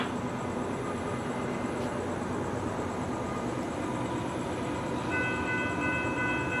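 A northbound SunRail commuter train rumbles past steadily after dark at moderate distance, a continuous low roar, with a faint horn-like tone near the end.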